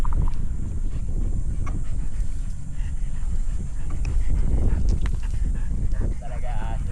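A dog whimpers and pants nearby over a low rumble, with brief whiny yelps and people's voices in the background.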